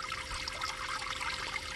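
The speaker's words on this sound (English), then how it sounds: "the pump is kind of struggling just to pump enough water for it to" A small solar-powered pond pump pushes a weak flow of water that trickles and splashes continuously at close range, a steady bubbling patter with no other sounds.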